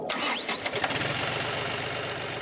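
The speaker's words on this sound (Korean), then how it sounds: "파이팅 기한 만큼이나 우렁찬 트랙터 소리" A farm tractor engine cranks and catches loudly up close, then settles into a steady, throbbing idle.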